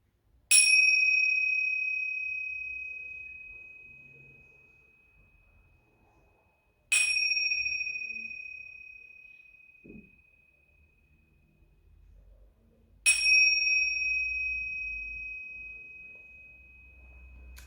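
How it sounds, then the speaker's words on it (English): A meditation bell is struck three times at slow, even intervals, each clear ringing tone fading gradually into near silence before the next strike. "Until you can no longer hear the sounds of my bell."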